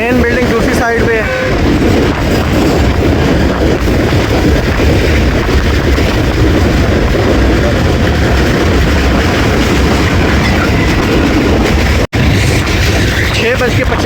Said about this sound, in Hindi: डोमेली रेलवे स्टेशन से पास हो रही है हमारी 104 डाउन सुबह खराम रेल का